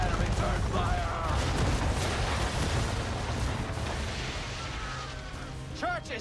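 Ship cannon fire roars in Assassin's Creed 3, a thick, continuous rumble of booms and battle noise that slowly eases, with a few faint whistling and creaking tones rising near the end.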